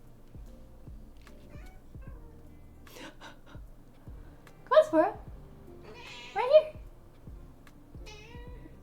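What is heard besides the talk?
cat meowing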